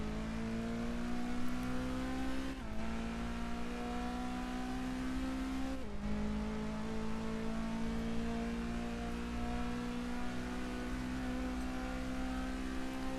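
A car drives in the racing game Test Drive Unlimited 2, its engine droning and climbing steadily in pitch as it revs, with two quick gear shifts that briefly drop the tone before it rises again.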